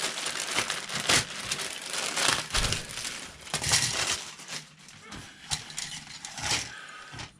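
Plastic bags of model kit parts from a Revell Bronco Buggy and trailer kit crinkle and rustle up close, in irregular handling bursts with soft clicks, without talk.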